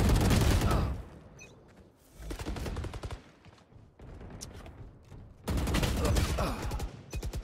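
Rapid bursts of automatic gunfire crackle from a shooter video game, coming in loud, dense volleys separated by brief quieter gaps.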